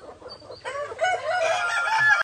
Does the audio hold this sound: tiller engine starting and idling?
no